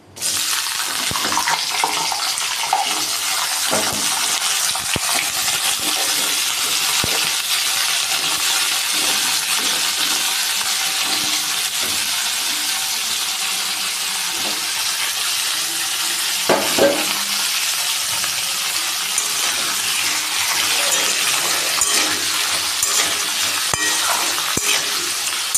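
Cubed potatoes sizzle and crackle steadily in hot oil with dried chillies in a pan, a dense, continuous frying hiss with occasional stirring scrapes and spits, close and fairly loud throughout.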